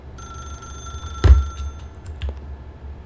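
A telephone rings steadily in the video game The Stanley Parable, a sustained electronic ring under a thud and a few soft clicks, with no one speaking.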